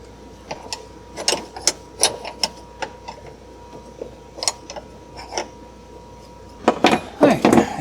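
An Allen key works a 1/4 inch steering wheel bolt loose on a Polaris RZR 800, giving scattered sharp metallic clicks and ratcheting taps, sparse at first and then bunched together near the end.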